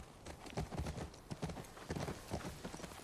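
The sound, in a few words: horse hooves clip-clop in The Last of Us Part II video game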